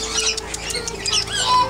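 Birds at the Oregon Zoo give a few scratchy squawks and chirps, fairly close and moderately loud against a busy outdoor background, with no talk.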